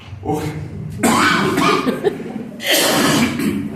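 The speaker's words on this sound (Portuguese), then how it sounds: "Desculpem a tosse" Two harsh, loud coughs in quick succession, close to the listener, with no speech in between.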